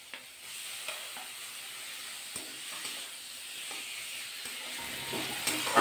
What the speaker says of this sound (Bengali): চিকেন দিয়ে ভালো করে মশলাটা মিশিয়ে নিতে হবে